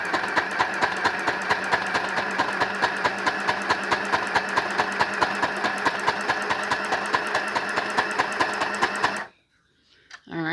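A Janome mini sewing machine runs close up with a fast, steady, regular needle clatter for about nine seconds, then stops abruptly and leaves near silence.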